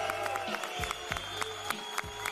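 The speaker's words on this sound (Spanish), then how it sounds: "Quiero un aplauso fuerte, primero que todo, por Rocky." Applause from a battle-rap audience at a Red Bull freestyle regional final in Concepción, with sharp claps in scattered bursts over a steady crowd murmur and a bright sustained tone, moderately loud and close.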